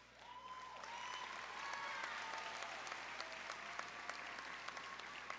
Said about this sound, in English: Please join me in a heartfelt round of applause to honor these outstanding students